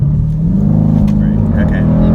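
A 2018 Dodge Durango SRT holds a loud, steady engine rev on launch control, a deep droning hum that edges slightly upward in pitch and stays level throughout.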